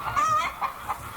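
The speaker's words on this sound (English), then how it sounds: "chickens" Chickens cluck in a few short bursts, near and fairly loud, with no voices over them.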